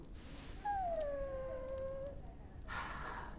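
A dog in the fantasy video game Dragon Age Origins gives a drawn-out whimpering whine that bends downward, heard fairly close over a low ambient game background with brief chiming effects.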